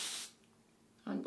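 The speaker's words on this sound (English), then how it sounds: "I spray it with hairspray all together" Hairspray hisses from an aerosol can onto styled hair in a short, close burst, followed by a quiet pause and then a voice speaking.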